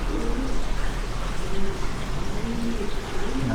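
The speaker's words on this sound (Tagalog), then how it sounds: "Nakikita nyo, may mga kalapati." Pigeons cooing softly at a wash place amid a steady outdoor hiss, several low repeated coos at moderate distance without speech.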